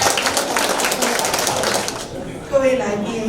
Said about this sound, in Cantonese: 俾啲掌聲佢先。